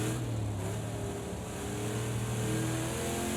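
A 1969 Camaro Trans Am V8 in the Project Cars 2 racing game, its engine held at steady high revs at full throttle around the Rouen Les Essarts circuit, a continuous droning roar with no talk.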